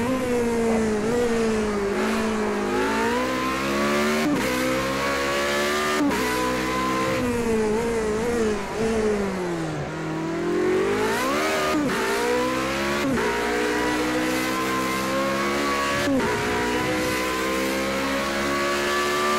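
Race car in Project CARS 2 career mode, a loud, continuous engine whine that climbs and drops through gear changes with brief shift breaks and some tyre noise, close and steady throughout, with no talk.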